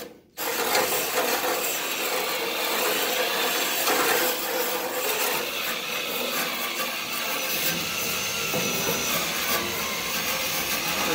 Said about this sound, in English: what this is doing is it's putting gouges in the paint